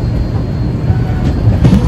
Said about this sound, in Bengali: এখন এনজিপি ট্রেনটা ঢুকছে।